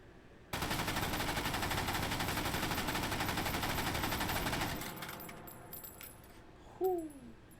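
Machine gun in the virtual-reality shooter H3VR firing a long, very rapid unbroken burst for about four seconds, loud and dense, then cutting off to mechanical rattles, clinks and a brief metallic ring.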